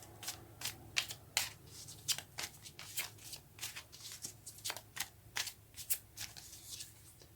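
Tarot cards being shuffled by hand, a quiet close run of papery riffles and slaps in uneven bursts, with no one speaking.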